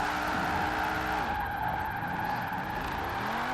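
A tuned drift-build car in Forza Horizon 4, fitted with drag tyres, slides sideways with the handbrake pulled, and its tyres squeal loudly and continuously over a revving engine drone.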